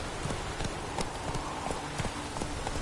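A horse gallops in The Witcher 3 video game, its regular, rhythmic hoof clops repeating quickly and evenly over a constant background hum.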